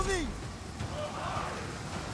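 Rain in the video game Total War: Pharaoh, a steady close patter heard under game sounds and a faint whistling tone, unbroken across the short stretch.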